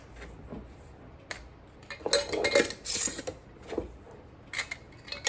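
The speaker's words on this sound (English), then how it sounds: "I'm going to get my jars shut." Lids are closed on glass canning jars in a pantry, with close clinks, taps and rattles of metal on glass in scattered bursts and no voices.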